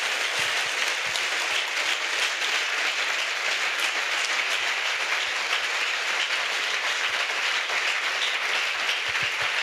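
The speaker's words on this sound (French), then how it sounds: "Let's clap for Jesus Christ." A church congregation at an outdoor healing and deliverance crusade in Bafoussam applauding together, a dense continuous wash of clapping held at an even level for several seconds.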